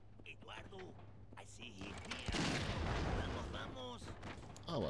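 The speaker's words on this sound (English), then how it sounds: "Not trying to take any unnecessary gunfire." Gunfire in the video game Total Overdose: a dense burst of shots and booms swells mid-clip and then trails off, heard over constant background game music and effects while a player talks across it.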